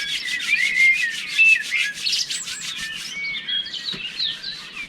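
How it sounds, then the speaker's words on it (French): Hands are rubbed together and then worked over the lower back in a self-massage, giving a close, continuous dry rubbing and swishing with a soft, uneven rhythm. "Et puis on frotte les mains et on vient réchauffer le bas du dos,"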